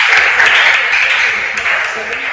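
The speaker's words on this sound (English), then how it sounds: "Please, a round of applause for them." Brief burst of loud applause from a school quiz contest audience, dense close clapping holding steady for a couple of seconds.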